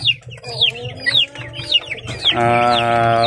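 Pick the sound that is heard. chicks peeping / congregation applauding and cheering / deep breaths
chicks peeping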